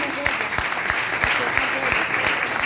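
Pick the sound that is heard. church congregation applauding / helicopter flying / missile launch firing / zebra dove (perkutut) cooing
church congregation applauding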